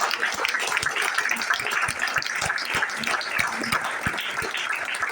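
An audience at a management seminar claps continuously, a dense steady applause with sharp individual claps standing out, heard alone without talk.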